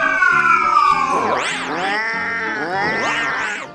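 Many cats meowing together in overlapping, wavering cries that rise and fall, loud and close, forming a dense chorus without speech.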